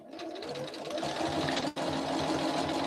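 Sewing machine stitching flannel, a rapid, steady mechanical whir and chatter close up, with a brief pause near the middle before resuming.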